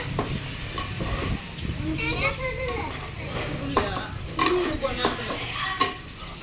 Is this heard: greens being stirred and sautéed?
yes